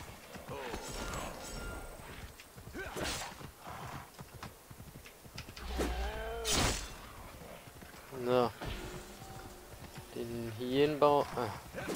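In the video game Assassin's Creed Origins, hooves clop along in a galloping rhythm while a horse whinnies and snorts several times; a voice talks over parts of it.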